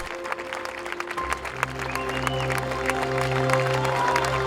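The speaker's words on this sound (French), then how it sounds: "on peut les applaudir très très fort" A crowd applauds the dancers opening the Traces Contemporaines dance festival, a steady wash of clapping that swells and holds loud and dense, with music tones ringing beneath it.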